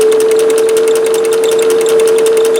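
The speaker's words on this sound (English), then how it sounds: "A lot of the noise you hear is from that belt going around." Singer 411G sewing machine driven at 1500 RPM by a servo motor through a slightly squeaky belt, making a steady, close, continuous whir with a strong constant hum and rapid even ticking throughout.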